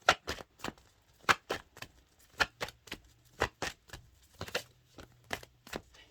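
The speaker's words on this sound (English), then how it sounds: "Let's shuffle." Tarot cards being shuffled by hand, a run of sharp riffling bursts in uneven rhythm, close and clear, with no talking.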